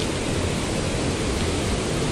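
Nang Rong waterfall in Nakhon Nayok pours steadily in a dense, unbroken rush of water, loud and close, with no voices or other sounds over it.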